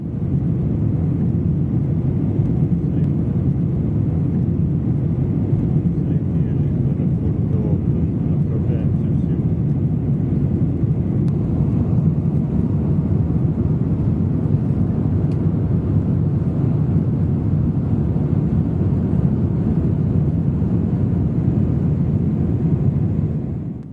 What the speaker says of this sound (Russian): Взлетаем